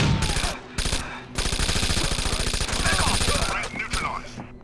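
Sustained automatic gunfire in the tactical shooter Rainbow Six Vegas 2 during a final mission, with dense rapid bursts running through most of the moment and loud, close shots.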